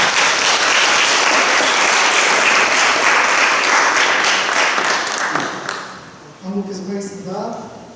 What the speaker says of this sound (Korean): 그냥 우리가 박수로 환영을 드리겠습니다